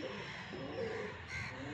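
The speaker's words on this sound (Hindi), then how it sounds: "चिड़ियों का आवाज़ कितना अच्छा लग रहा है" Birds call on a rooftop five floors up in the evening, with a few faint caws and chirps over a soft hiss of background noise and a muffled voice nearby.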